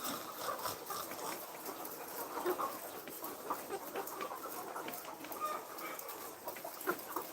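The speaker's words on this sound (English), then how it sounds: "I'm trying to listen to the sound of these birds." A flock of poultry clucking and calling continuously at moderate distance, with overlapping chatter and occasional sharper squawks.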